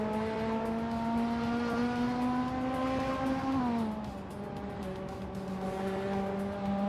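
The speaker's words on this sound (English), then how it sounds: "Zadamoji James is racing a 1990 Subaru Legacy RS" A 1990 Subaru Legacy RS race car roars through a video game race with a steady, loud engine drone. Partway through, its pitch drops as it shifts gear, then it climbs again.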